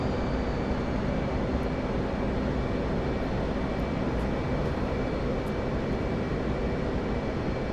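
F/A-18 Hornet jet engine in the DCS flight simulator, a steady, even roar on descent with flaps down, heard alone without talk.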